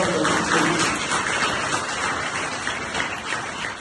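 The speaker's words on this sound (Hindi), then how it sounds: "एक बार जोरदार ताली आपके सम्मान में" A hall audience claps loudly to honour two women guests at a free women's skill-training launch event, a dense, sustained wash of applause lasting throughout without a break.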